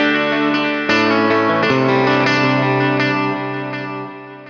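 Electric guitar through a BOSS Nextone Stage amp with plate reverb and delay: notes and chords bloom into a wide ambient wash, with repeating echoes and a lush reverb tail that slowly fades.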